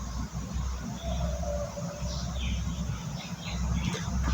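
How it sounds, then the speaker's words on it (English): Scattered bird chirps and squawks outdoors, fairly faint, over a steady loud low rumble. "those are the birds all around singing"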